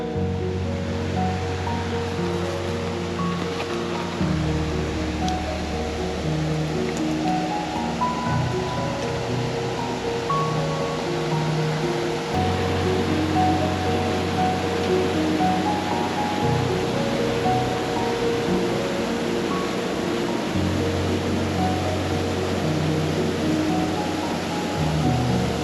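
Steady, loud roar of Timberline Falls, a waterfall in Roosevelt National Forest, heard close by as continuous broadband rushing water with no breaks and no talk over it.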